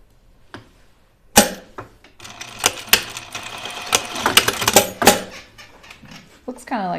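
A sewing machine stitching the facing seam of a coat, running in several short bursts of rapid mechanical clatter separated by brief pauses, with a voice talking around it.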